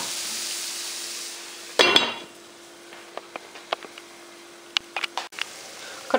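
Vegetables fry lightly in butter in a pan for a budget chicken soup, a soft, steady sizzle under a clatter of utensil scrapes and sharp taps against the pan, with one louder burst of scraping early on.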